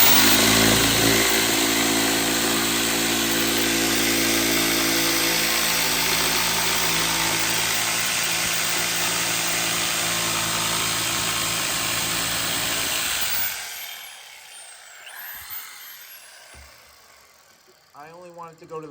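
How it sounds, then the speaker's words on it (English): A handheld router flushes the cut line on a 10-inch mid-bass/subwoofer ring, a loud, steady whining drone for about thirteen seconds that then cuts off, leaving faint handling noise and brief quiet sounds. "The router flushes the line and makes it nice and clean"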